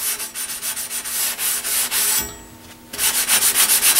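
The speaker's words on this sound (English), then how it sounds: "I'm going to take a sanding sponge." Sanding sponge smoothing the tines of an old garden tool being restored, a close rhythmic scrubbing of quick back-and-forth strokes that pause briefly, then resume.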